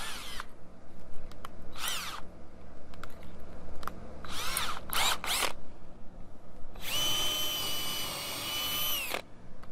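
A DeWalt power drill drives pocket screws into a rain screen structure in several short whirring bursts, ending with one longer, louder run near the close, with no talking.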